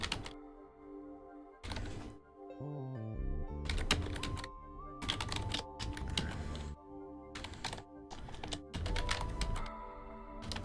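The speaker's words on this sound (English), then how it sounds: "I'm typing into the void." Rapid computer keyboard typing in irregular bursts of clattering keystrokes over a steady tonal backdrop of Minecraft game music, close and fairly loud with no talking.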